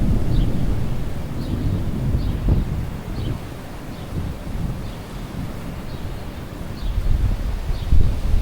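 Thunder rolls through a lightning storm, low rumbles rising and falling alongside gusting wind and rustling foliage, heard from outdoors with no voices.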